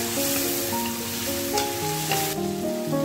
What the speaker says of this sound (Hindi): इन मसालों को हम लोग अच्छे से भून लेंगे।